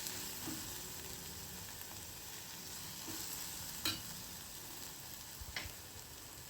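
Onion paste with salt and spices frying in a pan for raw banana curry, a soft, steady sizzle broken by a few sharp scrapes and taps of stirring.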